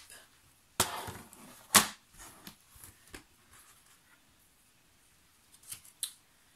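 Scissors snipping paper envelopes for a scrapbook album: two strong close cuts followed by smaller snips and paper handling, then a couple of quick final snips, with no talking.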